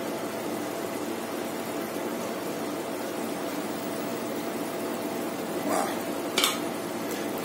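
Eggs cooking in olive oil in a pan while being stirred, a steady soft sizzle with a couple of brief scraping clinks near the end, close and fairly quiet.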